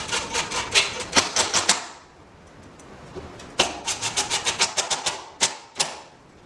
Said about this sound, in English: we use a Phillips bit and a Phillips screw to just finish this top trim off